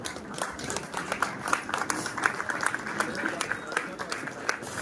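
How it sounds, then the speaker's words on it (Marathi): An audience at a music festival event in Miraj rises for a standing ovation, clapping steadily with dense, continuous applause from a crowd in a hall. "सर्व मिळून आपण उभं राहून या संचालक मंडळाला टाळ्या वाजवून त्यांचं आपण अभिनंदन करूया"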